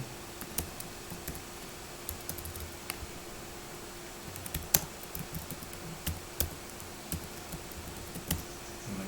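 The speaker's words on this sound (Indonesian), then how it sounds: "Kemudian di sini kita ketikkan PHP Artisan" Someone types a PHP Artisan command for a Laravel project on a computer keyboard, producing quiet, irregular key clicks with occasional sharper taps and soft pauses between them.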